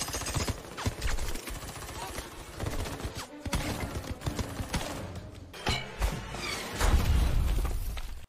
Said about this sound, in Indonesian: Tembakan senapan mesin segera dilayangkan.